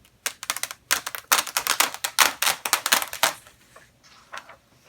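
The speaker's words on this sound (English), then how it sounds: "It's time to peel the paper back." Paper backing peeled off drink-can wall art in quick ripping tugs, a run of sharp crackly tears close up, then fading to a few softer pulls.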